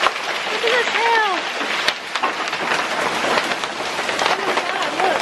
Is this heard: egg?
no